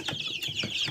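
Several quick, soft clucks in a loose rhythm from nearby young Australorp hens, with a light chirpy edge, heard alone.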